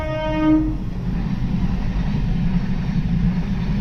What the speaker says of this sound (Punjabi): ਲੋ ਬਾਈ ਆ ਗਈ ਟ੍ਰੇਨ